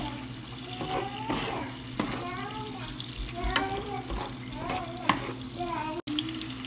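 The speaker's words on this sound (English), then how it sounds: "And you're gonna saute these onions." Onions sautéing in a pan for hamburger steak with onion gravy give a steady, close sizzle and crackle, broken by stirring scrapes and clatters of utensil against the pan, with soft voices murmuring underneath.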